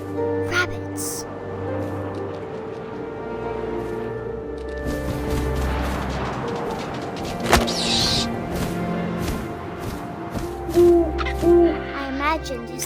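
An owl hoots in What Remains of Edith Finch amid wind and ambient game music, the low calls faint and intermittent, with a couple of sharper hoots near the end and narration over parts.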